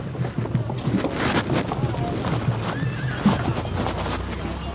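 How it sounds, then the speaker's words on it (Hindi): A horse at a horse fair lets out a clear whinny amid outdoor bustle, wind buffeting and occasional hoof clops, fairly close and loud. "ये भी घोड़ा ही है सर?"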